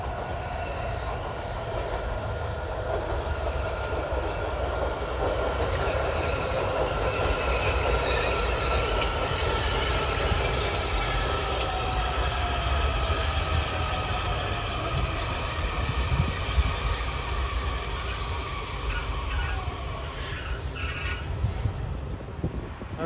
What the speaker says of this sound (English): There's a yellow line train arriving King Street